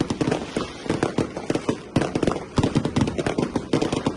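Fireworks bursting over a city square at a New Year 2026 celebration in Albania, a dense run of sharp cracks and booms in quick, irregular succession, loud and continuous with no speech.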